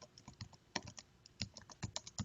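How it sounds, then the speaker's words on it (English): Computer keyboard typing in quick irregular bursts of close, crisp key clicks, with short pauses between clusters of keystrokes and no talking. "now I'm able to type"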